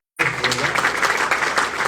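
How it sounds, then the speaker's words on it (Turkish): Loud, close audience applause bursts in after a moment of silence and carries on steadily at the opening conference of a body-cleansing camp, with a faint voice or two mixed into the clapping. "Kendisine de bir alkış istiyorum."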